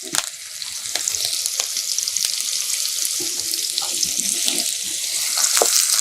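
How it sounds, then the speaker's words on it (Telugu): Oil sizzles steadily in a pan while onions, green chillies and curry leaves fry for a native-style boiled egg masala curry, a loud, continuous crackling hiss with occasional stirring knocks. "బాగా దోరగా వేయించుకొని"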